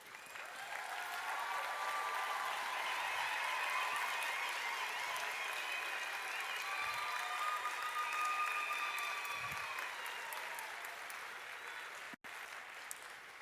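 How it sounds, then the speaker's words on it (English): Graduates and guests at a medicine and health sciences graduation ceremony give a long, even round of applause that swells early and holds steady, heard from a distance at a low level. "acknowledge their support with a hearty round of applause."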